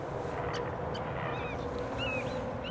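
Geese and ducks in the Everglades honk and call intermittently at a distance, several faint nasal cries scattered over a steady wash of low ambient noise.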